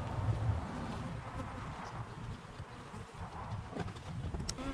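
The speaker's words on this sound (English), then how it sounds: "A lot of bees in here, it'll keep them busy." A dense, continuous hum of many honey bees buzzing close by in a hive during a queen introduction, steady and low, with faint rustling and knocks mixed in.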